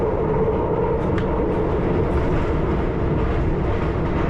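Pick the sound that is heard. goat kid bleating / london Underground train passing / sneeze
london Underground train passing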